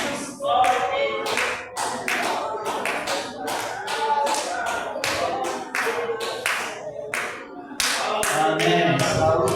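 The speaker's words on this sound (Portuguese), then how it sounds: "E as palmas de glória ao Senhor Jesus, glória a Deus." A church congregation at a Portuguese-language worship service claps hands in a rhythmic, fairly close pattern of distinct sharp claps, with voices faintly mixed in.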